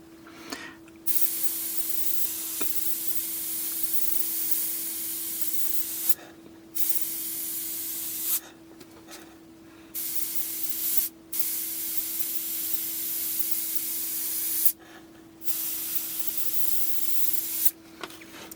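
Gaahleri Ace airbrush spraying Tamiya LP lacquer in a steady, close hiss, broken into several bursts by short pauses, with no talking.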